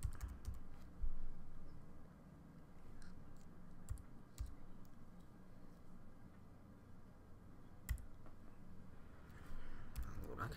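Typing on a computer keyboard while entering text in Pixelmator image-editing software, with a steady run of quiet, close key clicks over a low background hum.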